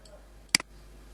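A computer mouse double-clicks during a Photoshop image-editing session: two quick, close clicks, clear and near, in a quiet room.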